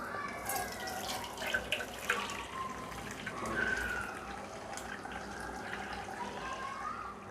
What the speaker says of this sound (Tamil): ஜூஸை நல்லா வடிகட்டிடலாம்